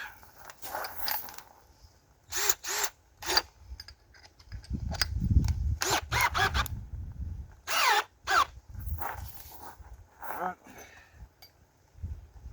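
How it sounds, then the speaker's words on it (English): A power drill whirs in several short bursts, start and stop, with a low rumble in the middle as it bites into material; a voice talks in between. "I'm going to drill one hole through each of these horizontals"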